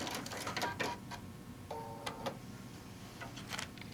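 A sewing machine ties off a final stitch in place on fabric for alphabet letter blocks, a short burst of rapid mechanical ticking and whirring with a brief tone, then lighter clicks.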